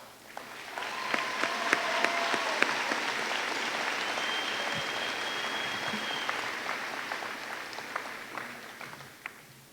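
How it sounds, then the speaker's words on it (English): Applause from a graduation crowd at a Farmington High School ceremony for top graduating students, swelling to a sustained roar of clapping with a few whoops and cheers, then fading out over about ten seconds. "each and every one of these people deserve your applause and respect"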